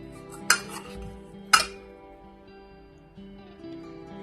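Meat being mixed with tenderizer powder for Balochi lagan gosht, with two sharp spoon-on-bowl clinks a second apart over a low background hum, close and with no talking.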